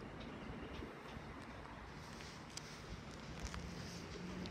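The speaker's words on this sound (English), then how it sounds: "There's an overground train just going there." A London Overground train passes at a distance, a faint, steady rail rumble with light wheel clatter and occasional ticks, quiet and continuous with no speech.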